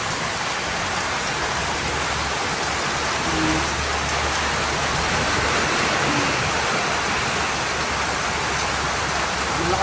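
Heavy rain pours down in a dense, continuous hiss, loud and unbroken throughout.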